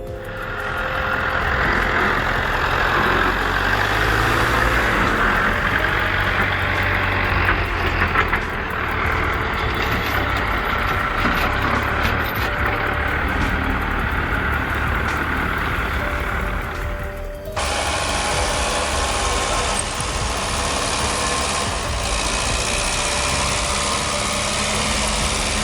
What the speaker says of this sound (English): This truck's pulling a wheelie